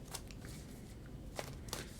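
Cards shuffle in a digital card game, a faint soft riffling with a few brief crisp flicks over a low background hum.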